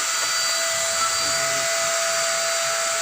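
A hair blower runs steadily drying a freshly bathed dog, giving a constant close whirring rush with a thin high whine, unbroken across the clip and with no talk over it.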